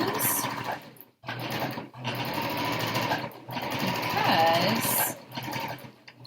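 Domestic sewing machine chain-piecing fabric pieces, a steady whirring hum that runs continuously with two brief pauses, while someone talks over it.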